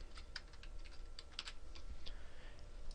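Quiet, rapid keyboard typing on a computer, heard as a run of light clicks over a steady low hum that taper off toward the end.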